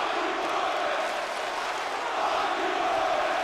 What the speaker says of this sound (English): the crowd here in Brooklyn letting Roman Reigns know exactly how they feel about what just went down